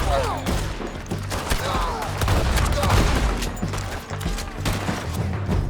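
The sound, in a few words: gunfire in the video game Red Dead Redemption 2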